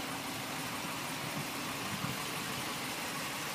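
A 2015 Dodge Ram 2500 Laramie diesel engine idling steadily with a low, even rumble that holds at a constant level throughout, with no talking.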